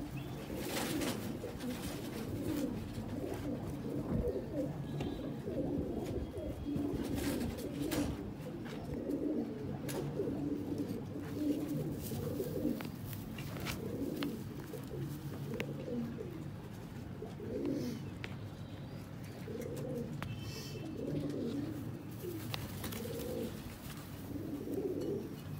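Pigeons kept as breeding pairs coo in soft, repeated throaty phrases, several birds overlapping at close range in a steady rhythm with no voices.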